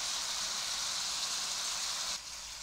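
Beef seasoned with black pepper, green chili and chili powder fries in a pan with a loud, continuous sizzle that drops a little near the end, with no talking.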